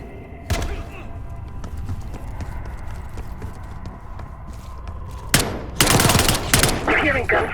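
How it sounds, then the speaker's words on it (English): In Call of Duty Black Ops 6, steady background din gives way to several sharp, loud bursts of gunfire near the end, with brief clopping hoofbeats early on. "You hearing gunfire?"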